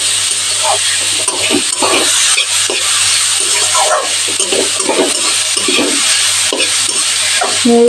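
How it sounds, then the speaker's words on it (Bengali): Vegetables are lightly stir-fried in a pan for a cheesy stuffed bun filling: a continuous loud sizzle broken by repeated scraping stirring strokes, with no voices. "হালকা ভাজা ভাজা করে নেব এই দুটো সবজি"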